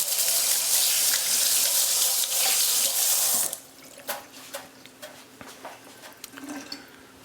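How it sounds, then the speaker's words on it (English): Water from a sink tap gushes loudly while hands are rinsed, then the flow stops and scattered drips and small splashes follow in a quieter kitchen setting. "Rinse my hands off."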